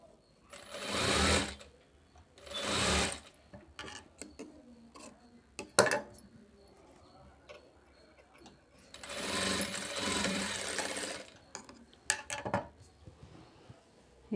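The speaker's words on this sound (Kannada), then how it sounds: "ಉಕ್ಸ್ ಪಟ್ಟಿನ ಈ ರೀತಿ ಡಬಲ್ ಫೋಲ್ಡ್ ಮಾಡಿಕೊಂಡು ಸೀದಾ ಮೇಲೆ ಇಟ್ಟು ಸ್ಟಿಚ್ ಮಾಡ್ಕೋಬೇಕು." A sewing machine stitches a hooks strip onto a blouse front in short bursts of whirring separated by pauses, with small clicks and handling knocks between runs, close and fairly quiet.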